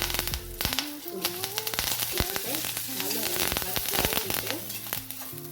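Garlic and curry leaves fry in hot oil in a pan for a coconut thuvaiyal, a steady crackling sizzle with sharp spattering pops and stirring clatter close up, a voice faintly present in the background.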